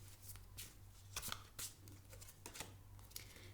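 Cards from a Shiva oracle deck being handled and drawn, a quiet series of papery riffles, flicks and taps in uneven bursts over a low steady hum, with no one speaking.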